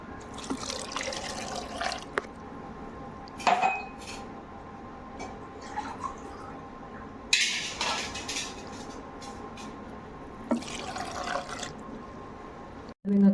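Water poured from a glass into a mixer jar holding chopped fresh pineapple for juice, a trickling splash with light clinks of the jar and utensils, close by, with a few louder knocks between pours.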